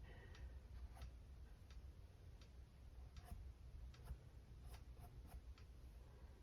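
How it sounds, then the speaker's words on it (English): Faint, regular ticking clicks, quiet and evenly spaced, over a low steady rumbling hum. "You hear that little ticking noise? It's just my hair dryer."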